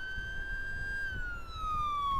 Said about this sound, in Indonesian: Ini ambulan rumah sakit Pertamina Pelaju ya.